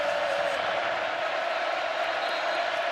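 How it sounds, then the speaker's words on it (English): Stadium crowd at an Alabama vs Texas A&M college football game, a steady, dense roar of many voices rising throughout, with no breaks. "Crowd now stirring it up."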